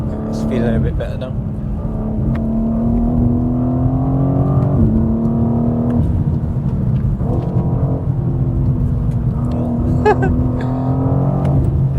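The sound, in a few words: BMW G87 M2 engine accelerating while driven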